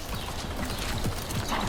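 Hooves of a two-year-old, sixteen-hand horse clip-clop in a steady, close rhythm of repeated knocks, with light background noise and no talking.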